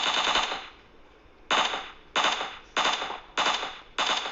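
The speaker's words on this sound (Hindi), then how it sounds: "और तभी मेरे को लेफ्ट में गन शॉट आता है" Gunfire in the PUBG Mobile battle royale game: one burst, a short pause, then five rapid automatic bursts in quick succession, sharp and loud with no talk.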